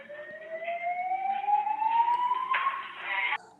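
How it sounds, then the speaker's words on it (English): Fire alarm going off inside a hotel room, a loud rising electronic siren tone that sweeps upward continuously for several seconds before cutting off abruptly. "Wait, now the fire alarm goes off,"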